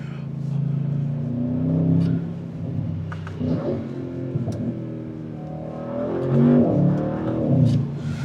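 A 2026 Audi RS6 Performance's twin-turbo V8 drones and rumbles from inside the cabin while driving, swelling into a louder rev near the end.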